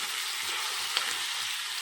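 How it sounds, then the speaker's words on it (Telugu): Chopped ivy gourd (dondakaya) frying over a high flame, a continuous bright sizzle close to the pan with one faint tap near the middle, no talking. "ఇలానే ఇంకొక 10 minutes అనేది ఇది ఫ్రై అవ్వాలి"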